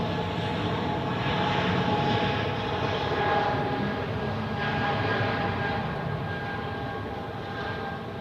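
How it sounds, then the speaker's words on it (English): A Delta airliner takes off on runway 16 at Zurich Airport, its engines producing a continuous broad, roaring rumble heard from a distance that holds steady throughout and eases slightly toward the end. "Of course, Delta takes runway 16."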